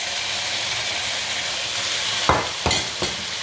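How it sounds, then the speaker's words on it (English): Pork in soy sauce sizzles and fries in a hot, lightly oiled pan with a steady hiss, broken by three sharp louder crackles and stirring bursts near the end, close and alone. "Make sure the pan is hot so it sizzles."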